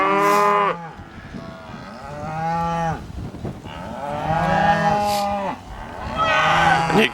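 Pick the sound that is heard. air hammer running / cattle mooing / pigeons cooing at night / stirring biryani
cattle mooing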